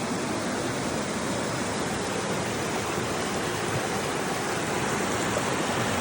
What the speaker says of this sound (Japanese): ここまで来るとこのように 川が流れてて、すごい本当に透明度が高い。